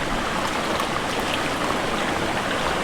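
Steady rushing water from a stream in Cherrapunji flows continuously, a broad hiss like a stream or falls nearby, with no voices.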